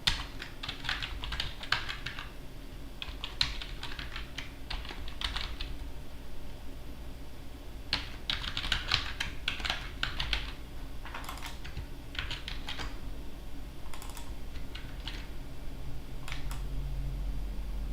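Someone types on a computer keyboard in irregular bursts of quick, light key clicks separated by pauses, close and quiet, over a faint low hum, with no speech.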